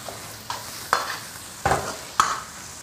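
Ginger, scallion and garlic stir-frying in a hot wok with pork belly and dried mushrooms, four or five distinct scraping tosses of the spatula with sizzling between them, close and clear, no voices.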